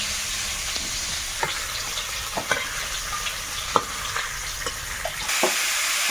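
Vegetables and cauliflower for khichuri fry with salt and turmeric in a pan, a quiet steady sizzle broken by a series of sharp clinks and scrapes from a spoon stirring, with no talking.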